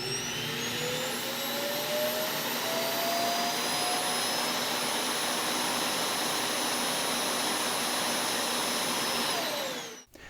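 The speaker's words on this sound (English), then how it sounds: "a vacuum in the dock starts up, sucking the dirt out of the robot so its dirt box is empty" The base-station vacuum of an iRobot Roomba i7+ dock runs steadily for about ten seconds as it sucks dirt out of the robot's bin, a loud, even whooshing drone with faint whistling tones, then cuts off abruptly.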